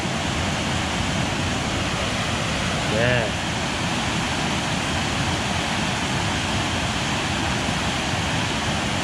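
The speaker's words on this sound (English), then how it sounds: "Waterfall. It's full now." A full waterfall on a rainy Yorkshire visit: a steady, dense roar of rushing water that never lets up, with a brief spoken word rising over it near the start.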